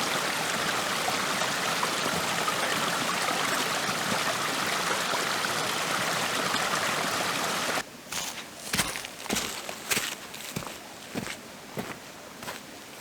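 A small forest stream flows down from a rocky pond into a lower pond, its steady wash close and continuous at first, then quieter trickling with a few scattered footsteps or knocks.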